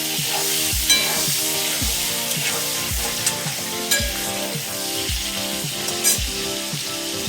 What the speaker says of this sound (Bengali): চিকেনটাকে দেখো ফ্রাই করে নিচ্ছি